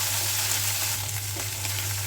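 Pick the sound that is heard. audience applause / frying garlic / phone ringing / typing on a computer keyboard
frying garlic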